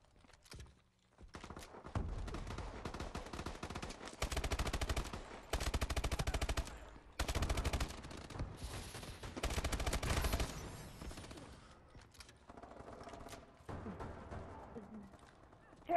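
Heavy gunfire rattles through a team deathmatch video game in long, dense bursts of automatic fire separated by brief lulls, loud and close, with game effects and voices mixed in.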